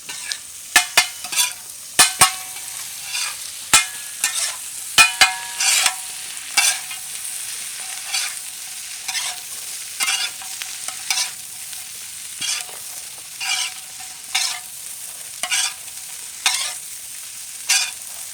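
Onion, carrot, beet and cabbage are stir-fried in a pan, giving a steady sizzle with repeated scraping clatters of a spatula in an irregular rhythm, close and without talk.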